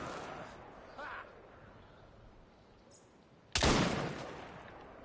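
A single loud gunshot at shooting-gallery targets of cups and bottles in Assassin's Creed Syndicate, sharp and close after a stretch of quieter game sound and faint chatter.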